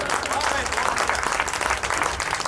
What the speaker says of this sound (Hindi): सच में एक बार बहुत जोरदार तालियां।